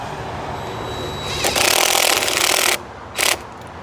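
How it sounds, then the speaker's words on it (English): An impact gun fitted with a 7/16 socket drives a fastener while a solar-powered gate controller is installed, a loud close burst of about a second followed by a shorter second burst. "Take your impact gun with that 7/16 socket"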